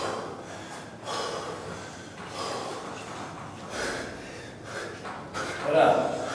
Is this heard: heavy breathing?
yes